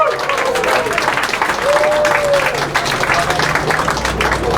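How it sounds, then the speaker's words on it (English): A large crowd at a political gathering honoring Senator Jim Davis breaks into steady, dense applause that holds loud for several seconds, with scattered voices and cheers mixed in. "Give yourselves an applause for being here."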